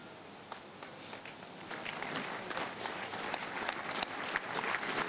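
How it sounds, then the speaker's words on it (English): A church congregation at a Sunday service applauds, the clapping distant and fairly faint, building gradually from sparse claps into a fuller patter. "Shall we clap for wonderful Jesus Christ?"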